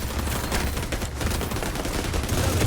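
Dense, continuous automatic gunfire in The Division 2, a sustained loud rattle of shots with no pauses, heavy low-end thump throughout.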